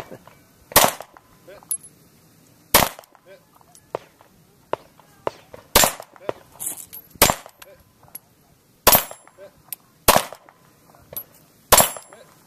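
Handgun shots ring out at an outdoor handgun match, sharp loud cracks spaced a second or two apart in an uneven string, with footsteps and movement between shots and faint voices nearby.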